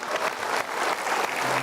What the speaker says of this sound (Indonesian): So, kita berikan tepuk tangan, teman-teman.